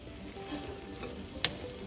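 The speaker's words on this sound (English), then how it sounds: "I'm also frying up some zucchini tonight." A steady close sizzle of zucchini frying in a pan, with a brief sharp crackle or clink partway through, no voices.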